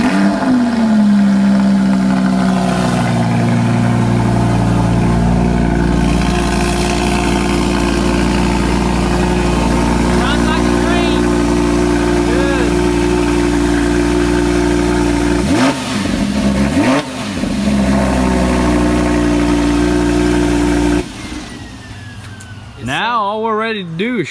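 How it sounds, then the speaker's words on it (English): A Lamborghini Huracan, a wrecked car under rebuild, idles loudly and steadily up close, its deep engine drone holding even with a brief rev near the middle and a change in tone at the end. "So I'm going in right now, give you guys that cold start. Or it may not be too cold, but start her up."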